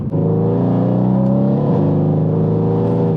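A Mercedes C63S AMG with a 604 bhp engine revs hard in race mode, a loud, close, sustained rising roar with a brief dip as it shifts.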